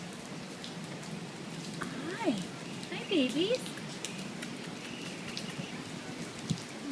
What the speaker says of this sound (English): You guys enjoying the rain?